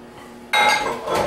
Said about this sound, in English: So go ahead and fold that in together and give that a good stir for me, Matt